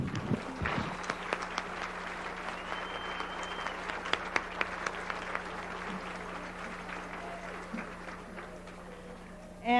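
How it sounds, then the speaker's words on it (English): A crowd at a youth soccer national championships opening claps for the regional championship teams, a moderate, fairly distant wash of applause with scattered sharper claps and a steady hum underneath. "join me and Snickers in another round of applause for the 40 regional championship teams"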